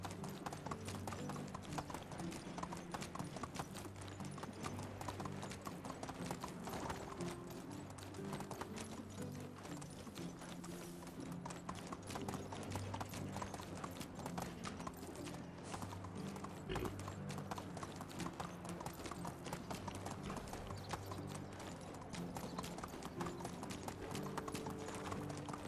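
Horse hooves clip-clop in a steady, continuous rhythm while riding across the land in Medieval Dynasty, close and even throughout with no pauses.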